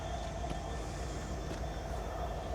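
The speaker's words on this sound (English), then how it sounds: "That is Norfolk Southern for any of you train enthusiasts" A Norfolk Southern freight train rolls past as a steady, heavy rumble with faint metallic squeals and tones above it, continuous and fairly distant, with no voices.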